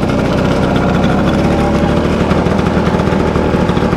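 A vintage motorcycle engine runs loud and close, a steady dense mechanical drone with rapid firing pulses as the bike pulls away in first gear after the clutch is let out, no voices.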